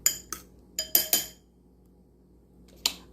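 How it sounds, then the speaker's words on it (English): A dish is set into a microwave with a handful of sharp ceramic and glass clinks, several quick knocks close together, then a pause and one final clink, close and clear in a quiet kitchen. "I'm putting this in the microwave."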